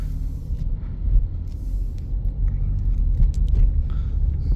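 A 2018 Lexus RX 350 F Sport driving a short loop around the block, heard from inside as a steady low road and engine rumble with light rattles and faint clicks scattered over it. No one speaks.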